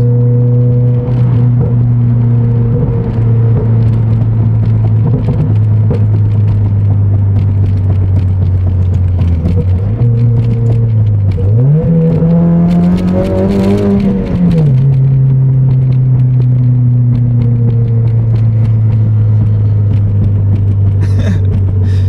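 A 2022 Toyota Corolla Hatchback with a full exhaust and AMT stage 2++ tune drones loudly and steadily from close by, cruising at a constant engine speed, with one brief rise and fall in revs midway.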